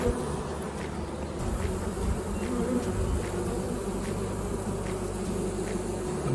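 A swarm of honey bees crowds into a new hive, a steady dense buzzing hum filling the air throughout, close and continuous with no talk.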